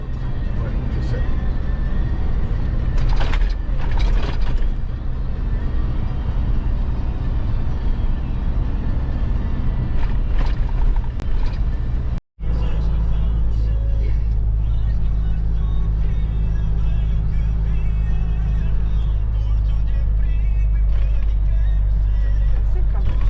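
A Fuso truck drives along the road with a continuous low engine drone and road noise from inside the cab, briefly cut off midway, as people talk throughout.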